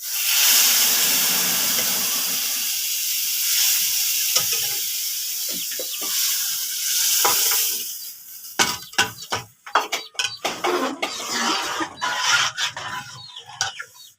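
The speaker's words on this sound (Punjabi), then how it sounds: "ਫਟਾਫਟ ਵਿੱਚ ਮਸਾਲਾ ਲਸਣ ਦਾ ਤੜਕਾ ਤੇ ਚਮਚਾ ਹਿਲਾ ਦਿਆ ਕਰੋ" A garlic and spice tempering sizzles loudly in hot oil as it goes into a pot of pumpkin and chana dal. A strong, continuous hiss is followed by quieter clinks and scraping from a stirring spoon.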